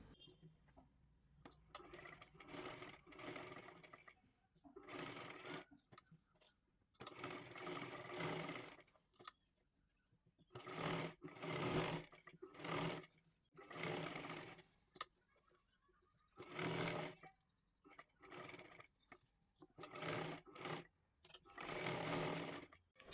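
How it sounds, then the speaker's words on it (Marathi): A sewing machine stitches a boat neck blouse in many short, loud bursts separated by brief pauses, a repeated stop-start rhythm heard close up. "आता इथून हे पूर्ण आपल्याला शिलाई करून घ्यायचं आहे"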